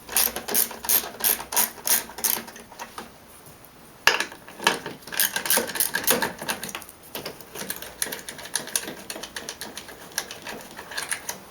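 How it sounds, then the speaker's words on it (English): Ratchet with a 10mm socket working on a BMW E36 engine bay to remove the cruise control, giving rapid bursts of clicking pawl strokes close up, pausing briefly midway and then resuming in steady, dense clicking. "So I'll start with removing the cruise control first, using a 10mm socket."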